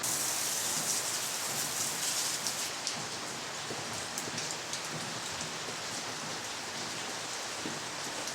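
Steady rain falls outdoors in a dense, even hiss that holds for the whole stretch, with no voices over it.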